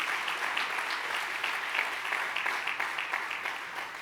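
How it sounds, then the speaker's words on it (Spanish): Dense, even applause from a church congregation fills the whole stretch, many hands clapping together at a steady level with no voices on top. "Denle un aplauso fuerte a Jesús."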